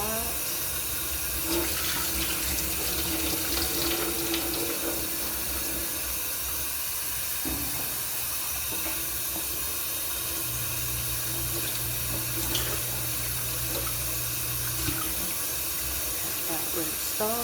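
Steady broadband rush of cold running tap water into a sink while a scallop is rinsed in a kitchen for a scallop potato casserole, continuous and close throughout the clip.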